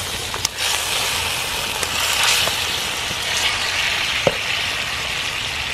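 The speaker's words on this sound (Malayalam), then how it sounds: "അപ്പോൾ മട്ടൻ ഇതിൻ്റെ അകത്തേക്ക് ഇടുന്നുണ്ട്." Broad, steady sizzle of 2 kg of mutton dropped into a hot pot of Kerala-style mutton curry, with a few sharp clinks and spoon knocks standing out above the constant frying hiss, close and fairly loud.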